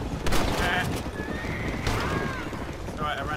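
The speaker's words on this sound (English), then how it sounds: "You got rid of my horse!" Horse whinnies in Red Dead Redemption, a few high neighing calls over steady game ambience and clopping hooves, fairly close, with game background noise throughout.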